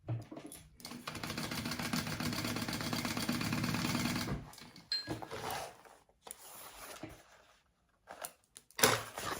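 A sewing machine stitches darts into a Margarita fabric bag, a steady rapid mechanical whirring that runs for several seconds, then breaks into shorter bursts separated by pauses and handling clicks.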